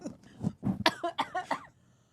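A woman coughs in a quick series of about six harsh, close coughs, trailing off into quiet.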